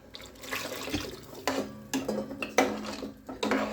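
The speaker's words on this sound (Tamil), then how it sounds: "ஒரு 2-3 கரண்டி புளித்தண்ணி, சாம்பாருக்கு தேவையான தண்ணி." Water and tamarind water splash and pour into a pot of sambar amid clinking of metal utensils and dishes, a few sharper knocks scattered through.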